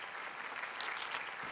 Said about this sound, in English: Never before I see crowds so excited at Yuri's circus.